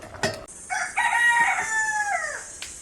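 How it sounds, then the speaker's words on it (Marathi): A rooster crows once in a loud, drawn-out cock-a-doodle-doo with a rising then falling tail, close by, preceded by a brief cluck, with no talk. "कोंबडा हरवतोय"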